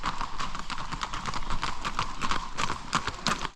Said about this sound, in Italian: È arrivato il cavallo Jerry